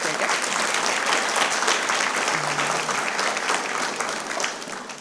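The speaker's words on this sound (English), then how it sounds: "Clap for Devin" Steady applause from a school board meeting audience honoring a student award winner, dense clapping holding evenly for several seconds with a faint murmur beneath.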